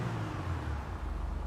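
A car pulling into a modification shop in GTA Online, a steady low engine hum with slight revving, close and even throughout.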